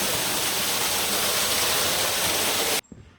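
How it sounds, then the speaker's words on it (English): A waterfall in Buderim Forest, Queensland, roars as a loud, dense, continuous rush of falling water heard from close by, then cuts off abruptly near the end. "the waterfall is just in front of us"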